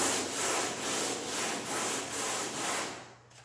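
Sandpaper rubs over putty spots on the body of a Dodge Dart in a quick, even rhythm of about eight close, scratchy back-and-forth strokes that stop near the end.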